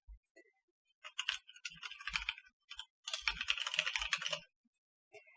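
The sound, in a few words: typing a URL on a computer keyboard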